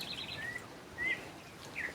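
Birds chirp outdoors at a rural farm, giving three brief, thin calls spaced across a faint, steady background hiss, with no voices.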